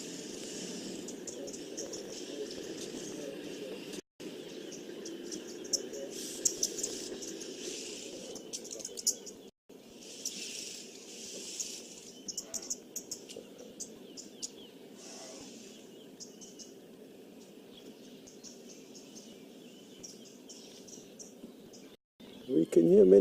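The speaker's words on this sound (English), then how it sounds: "We can hear many different birds, Terry." Many different birds chirp and call at a wildlife safari site, with a continuous buzz of insects underneath; the calls are layered and fairly distant, and a voice is heard at times.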